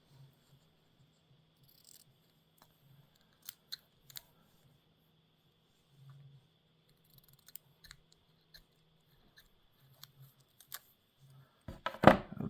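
Scissors trimming a small strip of camo duct tape for arrow fletching, sparse quiet snips and clicks scattered across near-silence, ending in a louder rustling burst of tape handling.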